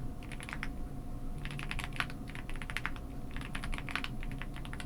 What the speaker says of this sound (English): Let me type a little something here.